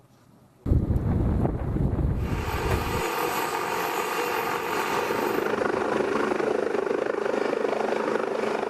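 A helicopter flying for a saiga antelope census gives a loud, steady rotor and engine roar with wind buffeting. It starts abruptly and continues without a break, and a heavy low thumping fades after the first few seconds.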